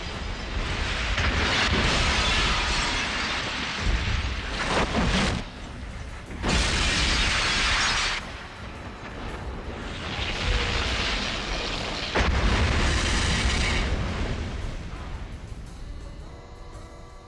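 A cathedral explodes in the Fallout video game, with a rolling series of heavy booms, rumbles and crashing debris surging and fading in several loud waves.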